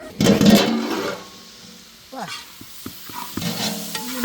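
Sliced snake gourd fries in a pan for a curry, with a loud burst of sizzling and scraping stirs early on, then quieter crackling and occasional utensil clicks against the pan.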